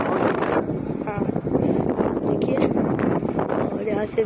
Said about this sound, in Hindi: बहुत ज्यादा तेज हवा है यहाँ पर